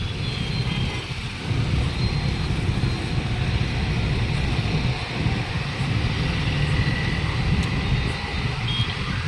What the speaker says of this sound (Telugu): ఇప్పుడే మన బస్సు వచ్చింది